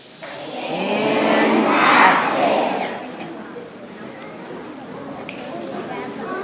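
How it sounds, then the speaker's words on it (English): Children at a school assembly cheer together for a class, their voices swelling into a loud burst, then settling into a lower murmur of chatter. "Let's give them the fantastic cheer."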